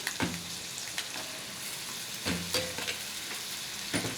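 Thinly sliced potatoes fry in a pan with dried red chillies, giving a soft, quiet sizzle. A few sharp scraping and stirring strokes sound against the pan.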